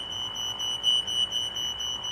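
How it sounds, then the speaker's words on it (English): A real household fire alarm sounding indoors, a steady high electronic tone holding throughout at moderate level with no talk. "That's a real world fire alarm."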